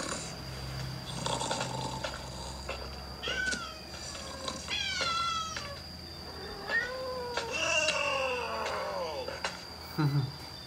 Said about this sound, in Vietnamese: Đây là mèo.